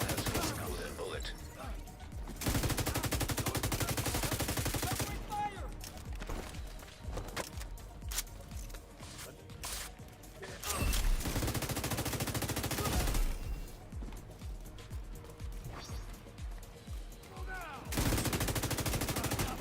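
Enemy gunfire in The Division 2, heavy automatic bursts that start and stop in long loud stretches separated by quieter gaps, with a voice talking at times.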